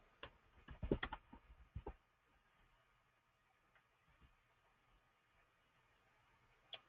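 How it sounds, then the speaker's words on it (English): Quick bursts of typing on a computer keyboard, soft and close, with a cluster of keystrokes at first, then near silence and a final lone tap. "I'm just typing the name exactly as I applied for it."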